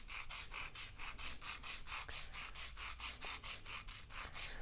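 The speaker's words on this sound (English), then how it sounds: "as I twist it, I rock it back and forth on that sanding paper" Charcoal pencil rocked and twisted against sanding paper, a close rhythmic scratchy rasp repeating in quick even strokes, roughly four per second, steady and alone.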